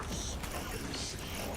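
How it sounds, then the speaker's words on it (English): Mechanical clunks and ratcheting gear-like creaks from a Techmarine moving in Space Marine 2, a continuous close metallic grinding with faint irregular clanks, no talking. "Clunking our way through this Techmarine tonight, boys."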